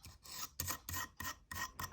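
A Depron foam slab is rubbed in quick, even strokes, giving a soft, dry rasping. About six strokes are heard up close, with short gaps between them and no talking.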